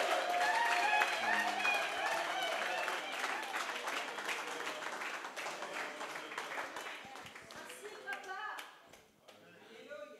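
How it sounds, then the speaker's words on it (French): A church congregation at a revival seminar in France claps and applauds together, a loud sustained wash of hands that gradually tapers off over the seconds, with the crowd noise thinning toward the end. "acclame pour le Seigneur Jésus"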